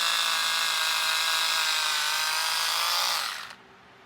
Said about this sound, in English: sharpen my lip liner